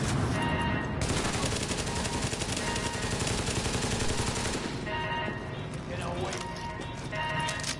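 Automatic weapon fire from the shooter game Tom Clancy's The Division pours out in dense, rapid bursts, loud and close, with a short pause before the firing starts again.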